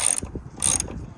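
A ratchet wrench tightens a car battery terminal on a Nissan Sentra, giving two quick bursts of close, sharp clicking separated by brief pauses, with no talking.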